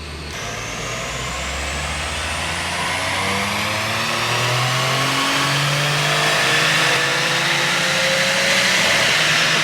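A powerful built car engine revs hard on a dyno, its pitch rising steadily through the gears in several long sweeps, loud and close, with no talking.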